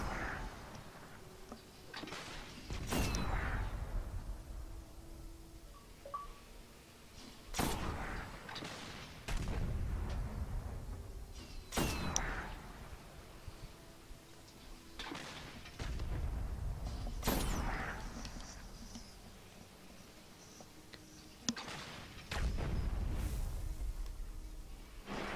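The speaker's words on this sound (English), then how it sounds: "Few more shots and he should be down." In the video game Destiny, a weapon fires at a tank during a Nightfall strike against Valus Ta'aurc, producing heavy booming shots about every four to five seconds, each followed by a sustained rumbling tail, loud and close.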